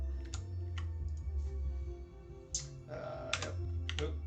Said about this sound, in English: since I'm on BlueStacks I use my arrow keys to zoom in and zoom out